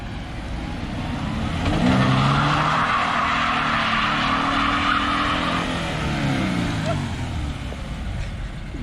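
A BRZ doing donuts: tires squeal and skid in long sliding bursts over a loud, continuous car engine, close by.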